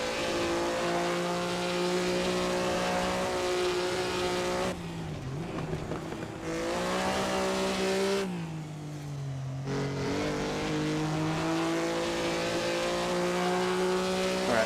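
A 1950s Grand Prix race car in a THR 250F series racing game at Pescara revs hard and loud, its engine note climbing through the gears, dropping sharply on two upshifts, then winding back up.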